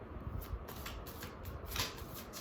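Close, rapid riffling of a deck of tarot cards being shuffled, a steady papery flutter with no voices.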